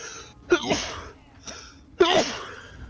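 Two sharp sneezes about a second and a half apart, close and fairly loud, with a faint quieter burst between them during a session of the game The First Descendant.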